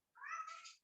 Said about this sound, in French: Voilà, et c'est mon chat que vous entendez peut-être.